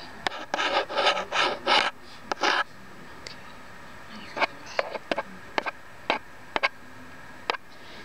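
A menthol stick rubbed close up in a quiet ASMR setting, giving a burst of dry rasping strokes followed by sparse, faint scratchy ticks.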